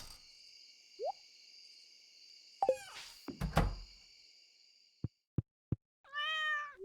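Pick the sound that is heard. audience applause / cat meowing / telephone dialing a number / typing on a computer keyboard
cat meowing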